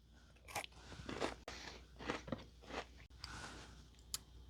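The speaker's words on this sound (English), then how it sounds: "Nice cookie crunch." Crunchy bites into a chocolate-covered oatmeal cookie from a 1998 US Long Range Patrol MRE, several close, loud crackling crunches spread across the clip with chewing between them.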